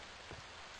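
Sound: rain in Stranded II video game

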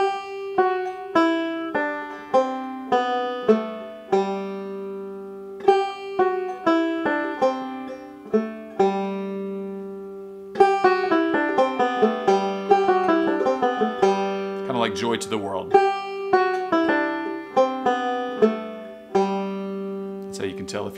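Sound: banjo playing descending scale

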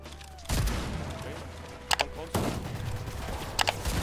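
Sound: gunfire in the video game Unreal

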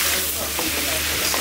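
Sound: elephant apple (chalta) frying in a pan

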